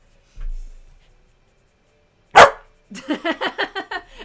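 An annoyed dog lets out a loud, sharp bark, then a quick run of about six shorter, rhythmic yips and barks close by, after a brief soft thump and quiet pause.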